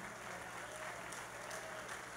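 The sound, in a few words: church congregation applauding Sister Margarida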